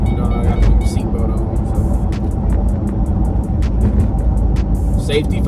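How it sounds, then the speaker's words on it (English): A Ford Mustang's seatbelt warning chime gives a rapid, steady run of faint, high beeps. It plays over constant engine and road rumble inside the car while someone talks. "Excuse my beeping, y'all. You know, I gotta put the seatbelt"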